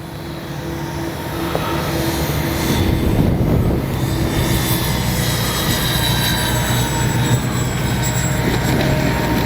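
A constant engine drone from an RC OV-10 Bronco model airplane landing on a runway holds steady and fairly loud for the whole stretch, with no talk.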